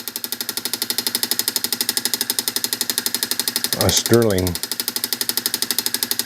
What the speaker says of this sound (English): Stirling type engine.